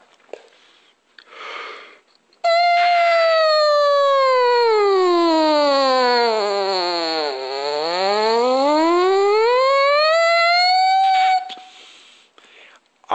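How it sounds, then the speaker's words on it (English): Horn played as a full range siren: a loud, sustained tone sweeps smoothly down to a low point and back up again over about nine seconds, framed by quiet breathy sounds before and after. "I will demonstrate a full range siren."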